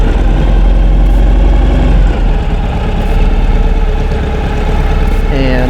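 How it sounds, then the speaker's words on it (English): A Ural motorcycle engine starts up and settles into a loud, close, steady idle with a rhythmic low throb lasting several seconds. "And let me just start the bike."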